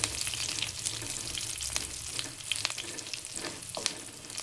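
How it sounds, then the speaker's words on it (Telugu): Curry leaves and garlic fry in hot oil for spicy garlic rice, giving a steady close crackling sizzle with occasional sharper pops and stirring scrapes. "కరివేపాకు కూడా క్రిస్పీగా ఎగితే బాగుంటుంది."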